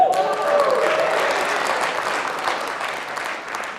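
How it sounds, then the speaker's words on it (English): Audience applause at an entrepreneurship talk, steady dense clapping from a crowd filling the room for several seconds, with a brief voice at the start. "I knew that would get the biggest applause."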